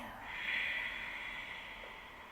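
A yoga practitioner exhales steadily and audibly while moving through a flow, a soft, close breathy rush that swells and then tapers over a couple of seconds, with no talking.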